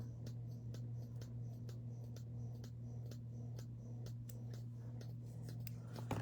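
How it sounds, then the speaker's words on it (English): Scissors snip repeatedly through the end of a length of craft material, a steady series of light, crisp clicks at an even pace over a constant low hum, close by and fairly quiet. "definitely gonna cut that whole end off"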